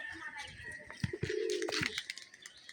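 A pigeon gives a few low, soft coos up close, mixed with rustling, faint chirps and background noise.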